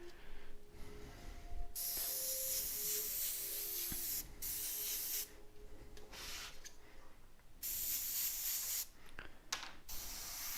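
An Omni 3000 airbrush sprays paint onto a T-shirt for graffiti art, making a steady close hiss that runs almost continuously and drops out in a few short pauses between bursts.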